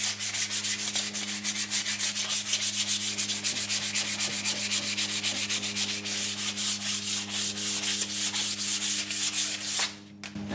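The back of a wooden guitar neck from a kit being sanded with 220-grit sandpaper, a steady close rhythmic rasping of quick back-and-forth strokes that stops abruptly near the end.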